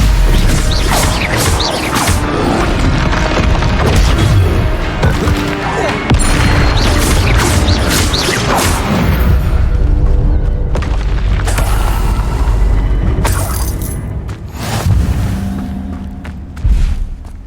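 Combat spells bursting and exploding in Hogwarts Legacy, a dense run of loud booms, crashes and whooshing blasts in rapid succession, with short shouted voices mixed into the fight.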